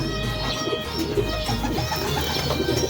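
Pigeons coo continuously and close by as a racing pigeon returns to its loft after a derby race, soft repeated murmuring calls over a low background hum.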